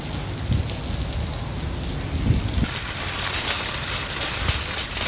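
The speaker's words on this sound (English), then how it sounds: "we did it, but it is lashing down" Heavy rain pours down outdoors in Florida as a dense, steady wash of close patter that swells slightly louder partway through.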